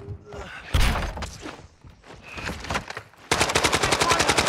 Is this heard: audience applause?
no